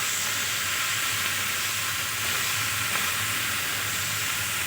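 Onion stalk curry sizzles steadily in a pan as it is stirred, a continuous close frying hiss with no pauses and no voices.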